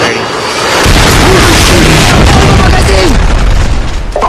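Loud booming explosion from a Predator missile strike in a Call of Duty match on the Wasteland map, a heavy rumbling blast that swells and lingers, with game voices talking over it.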